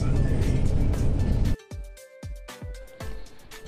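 Inside a moving bus headed for Tacloban City, a dense low engine and road rumble fills the first moments, then drops away to sparse knocks and rattles with a faint steady whine.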